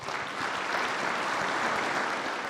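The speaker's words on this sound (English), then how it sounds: "As Nick applauds with his family" Steady applause from a crowd fills the air, a continuous wash of many hands clapping at moderate volume.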